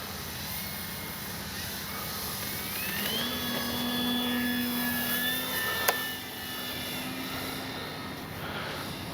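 A Flightline F4U Corsair radio-controlled model warplane flying overhead, its electric motor whining steadily at a moderate distance with a rising and falling pitch as it passes, plus one sharp click near the end.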